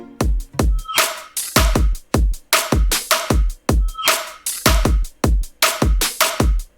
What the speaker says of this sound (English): I want to show you how they sound together.